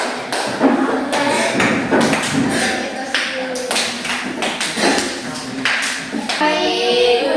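A junior high science class claps for a student group, a run of sharp, close hand claps and taps in bursts across the room, with brief voices in between.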